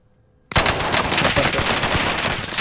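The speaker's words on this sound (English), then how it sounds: "He just shot someone, Jack." Automatic gunfire rattles out in Call of Duty: Modern Warfare, starting abruptly after a brief silence and continuing as a loud, dense, rapid burst that fills the rest of the moment.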